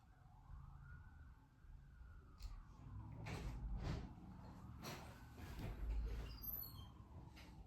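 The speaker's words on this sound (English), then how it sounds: "Oh, there go them sirens." Distant sirens wail faintly in the background, a rising and falling tone under low rumble and occasional nearby clatter.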